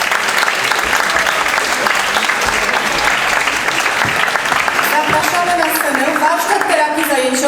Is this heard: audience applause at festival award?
yes